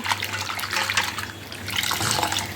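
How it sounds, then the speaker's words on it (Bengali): Vegetables being washed under a running tap, a close, steady splash and trickle of water that shifts as they are turned in the stream, with no one speaking. "তারপরে এরকম করে ধুয়ে নেব"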